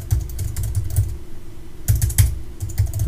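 Rapid typing on a computer keyboard, close and clear, with quick bursts of key clicks, a short pause in the middle, then another flurry of taps; no one speaks.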